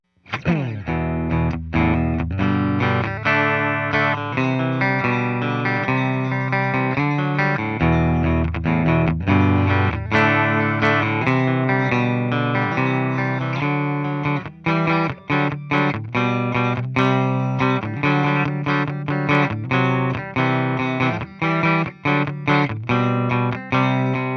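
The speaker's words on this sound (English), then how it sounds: "the first sound we will hear out of this guitar, we're gonna just use the bridge pickup here" A Fender Telecaster American Professional II on its bridge pickup plays a bright, distorted riff continuously, with chunky chords and fast picked notes that are loud and up close.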